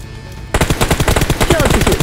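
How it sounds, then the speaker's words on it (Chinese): Automatic gunfire rings out in the video game Game for Peace: a loud, rapid burst of bullets from behind follows a brief quiet, and the shots keep up in a steady rattling rhythm with no talking. "身后飞来子弹，是刚刚的幸存者"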